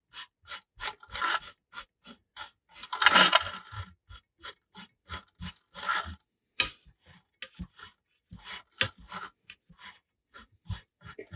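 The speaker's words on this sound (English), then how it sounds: "I'm using my Flex Coat burnishing tool to help make sure I keep packing those threads" A Flex Coat burnishing tool rubs over freshly wrapped Versablend thread on a custom fishing rod, packing the wraps with quick, close, evenly spaced scraping strokes and a denser stretch of rubbing partway through.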